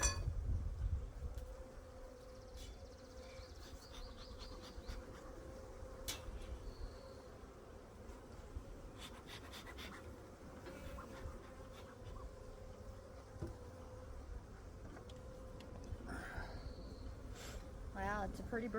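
Honey bees buzz around an open hive while being moved into a duplex, a faint continuous hum with scattered nearer fly-bys and some quiet handling noise.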